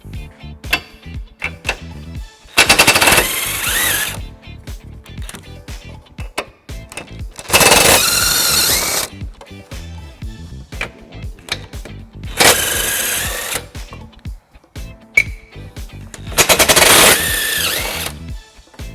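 A power tool with an 18mm socket spins off the nuts holding a 2020 BMW 530i bumper beam, in four loud, close bursts of high whirring rattle separated by quieter clicking and handling sounds.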